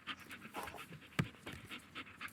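A dog pants close by in quick, rhythmic, breathy bursts, fairly quiet, with no talking.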